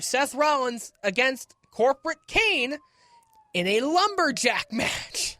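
A siren wails faintly in the distance, its slow rising and falling tone running underneath continuous talk from nearby speakers.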